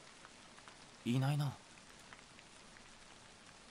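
Steady rain falls in a Japanese free horror game as an even, unbroken hiss, with a brief spoken line near the middle.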